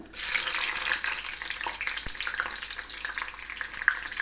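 Green chillies fry in oil beside kachori with a continuous, bubbling sizzle, moderately loud and close, with a faint clink near the end.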